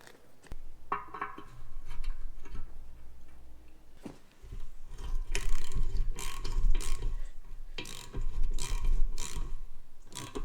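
A ratchet wrench tightens a 16mm by 150mm concrete anchor bolt through a steel plate into a shed floor, giving bursts of quick, close mechanical clicking with scraping and knocks, and no talk.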